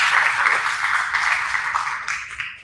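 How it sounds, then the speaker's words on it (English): Audience applause at a tech founders' talk on building in the era of AI, a dense steady wash of clapping that fades slightly toward the end. "let's give yourselves a round of applause because you made it out here"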